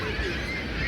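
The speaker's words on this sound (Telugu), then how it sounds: "ఎన్ని బర్డ్స్ ఉన్నాయి, సీగల్స్." Seagulls call near Niagara Falls, a short honking squawk over a dense background wash of wind and water.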